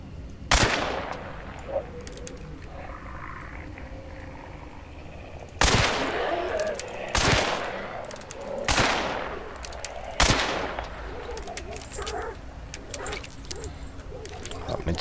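Gun fired in the video game Hunt: Showdown, with four loud sharp shots spaced a second or two apart, each followed by a short echoing tail, over faint background game ambience.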